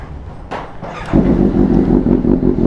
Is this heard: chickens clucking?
no